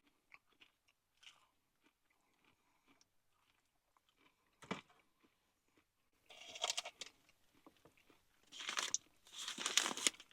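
KFC Wicked Wings with over-crunchy coating bitten and chewed up close, a few faint crackles at first, then a sharp bite and loud bursts of crisp crunching in short chewing runs.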